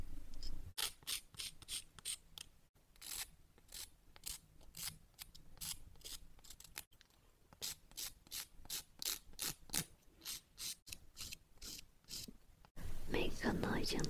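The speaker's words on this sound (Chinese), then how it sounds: "但是指甲的前端这一块我们还是需要修一下的" Press-on nail tips being trimmed during a nail technician's work, heard as a long run of crisp, rapid snipping or filing strokes in rhythmic bursts, close and fairly quiet, with brief pauses between sets.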